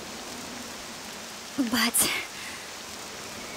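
Steady poison rainfall in the video game Octopath Traveler 2 hisses throughout at moderate level, briefly interrupted by a short spoken word in the middle.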